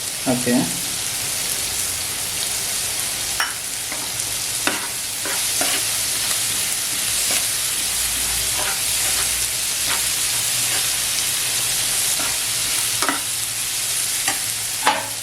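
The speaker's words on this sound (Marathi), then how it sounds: "हे परतून घ्यायचं नंतर मी शिमला मिरची टाकते" Carrots and capsicum are being sautéed in a pan as filling for prawn vada pav, giving a loud, continuous sizzle with regular scraping stirs of a spoon against the pan, close up and without talk.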